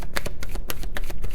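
Tarot cards are shuffled by hand in quick, close, crisp riffling bursts that flutter and snap in an uneven rhythm, loud and alone with no talking.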